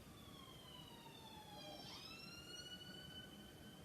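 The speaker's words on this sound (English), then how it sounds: "Excuse the siren if you heard that." A faint, distant emergency siren heard from indoors through a closed window, its wailing tones sweeping up and down against a low steady background hum.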